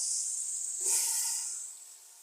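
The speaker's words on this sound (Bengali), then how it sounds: "তো 3 মিনিট পর্যন্ত এটা আমি ভেজে নিয়েছি চালগুলো।" Raw rice grains frying in a pan for white pulao, a steady high hiss that swells briefly mid-way then eases off, close and alone with no talk.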